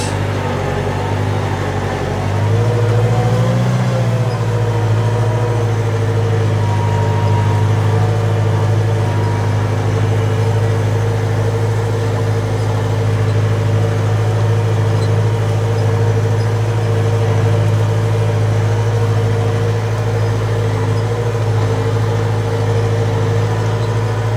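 A Case 110 Maxxum tractor engine drones steadily while plowing a field, a close, constant low hum with a brief shift in pitch early on and no talking.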